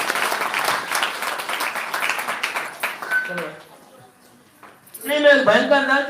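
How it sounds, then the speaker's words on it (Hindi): A congregation at a Thursday prayer meeting claps loudly and briskly for several seconds, then fades to near quiet before voices rise again. "इसे जोरदार ताली बजा के प्रभु का धन्यवाद"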